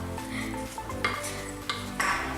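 Granola ingredients are stirred together in a small bowl, producing soft scraping and a few sharp clinks of a utensil against the bowl, close and fairly quiet with no talking.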